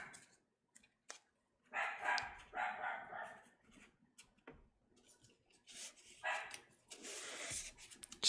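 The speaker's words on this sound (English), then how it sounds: "One of my dogs is barking in the background." Dog barking in the background of a card-opening session: several bursts of barking at moderate distance, fairly faint, with intermittent card rustling between.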